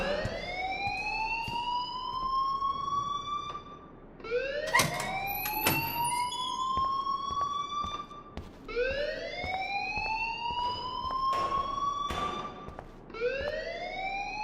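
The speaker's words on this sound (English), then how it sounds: "please turn off that alarm since that's your job." A repeating electronic alarm rings in the Life is Strange video game, rising whooping tones cycling every few seconds with sharp bursts of noise between them.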